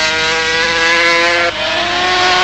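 A 500cc Honda works racing motorcycle screams at high revs at Mugello, loud and close, with a sharp gear change midway and the engine pulling on without letup.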